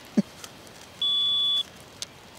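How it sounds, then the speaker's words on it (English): Single electronic bite-alarm beep at a carp fishery, a steady high tone of about half a second between a few soft knocks and clicks outdoors. "Oh, and we have a beep."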